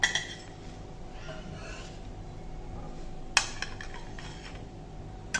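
A cooked stuffed chapati is lifted onto a plate in a home kitchen, with a few sharp clinks of metal and dishware against a low background hum.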